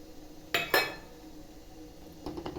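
Mango pieces drop into a metal cooking pot for a chakkakuru mango curry, giving two quick close clinks and clatters, then a few fainter knocks a moment later in a quiet kitchen.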